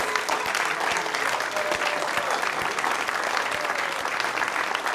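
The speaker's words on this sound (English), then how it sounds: "Let's give these folks a round of applause" Church congregation applauding during a Unitarian Universalist Sunday service, a sustained even wash of many hands clapping throughout, loud and close.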